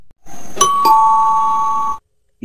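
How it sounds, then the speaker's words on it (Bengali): A house's electric calling bell rings late at night: two loud, clear ding-dong chime strikes, the second tone held for over a second before stopping abruptly. No one speaks over it. "হঠাৎ বাড়ির কলিং বেলটা বেজে ওঠে।"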